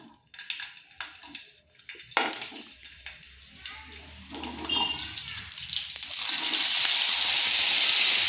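Ginger and garlic are dropped into hot oil in a pan with scattered clatters and crackles at first, building into a loud, continuous frying sizzle.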